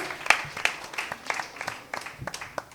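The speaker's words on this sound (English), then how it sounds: "Round of applause for them." Sparse applause for a quiz team at a regional quiz competition: a handful of separate sharp claps, uneven and irregular, moderately close and quiet, with gaps of near silence between them.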